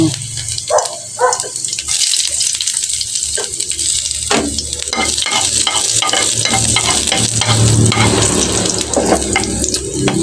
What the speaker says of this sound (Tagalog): Nagisa muna tayong bawang.